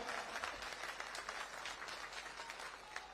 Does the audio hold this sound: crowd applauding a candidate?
yes